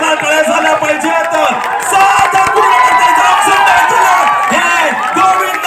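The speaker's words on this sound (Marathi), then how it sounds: "जोरदार टाळ्या झाल्या पाहिजेत" A large crowd at a Dahi Handi festival in Konkan roars and cheers as a Govinda team attempts the sixth human-pyramid tier, a loud, continuous mass of shouting and whooping voices filling the space.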